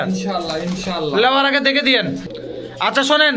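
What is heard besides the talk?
pigeons cooing at a pigeon market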